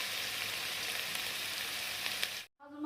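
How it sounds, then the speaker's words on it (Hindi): Onions frying in oil in a pan, a steady close hiss of sizzling that runs evenly before cutting off abruptly near the end. "इसमें मैं प्याज फ्राई करूँगी"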